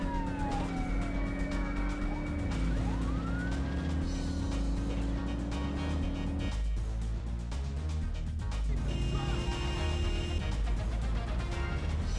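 Police car sirens wail and sweep in a Midtown Madness 2 chase, rising and falling over a steady, loud car engine drone. The siren fades partway through while the engine keeps roaring, then a higher tone returns near the end.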